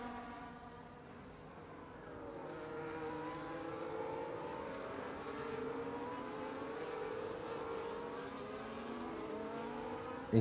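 A pack of race cars in a racing video game weaves behind the safety car in Bahrain, several engines droning and revving at once with overlapping rising and falling pitch, steady and moderately distant.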